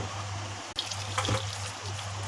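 Hot water is poured into a pressure cooker holding mutton and garam masala, a faint, quiet trickle and splash that starts after a brief knock and continues softly to the end.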